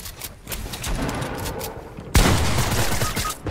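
A loud pump-shotgun blast in Fortnite cuts in sharply partway through, followed by dense, sustained gunfire and game action noise at close range, with busy battle sound before it.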